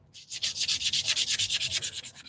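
Rhythmic sanding strokes on a hook knife handle made of madrone wood and epoxy, about twenty quick even back-and-forth rubs, close and clear with no talking.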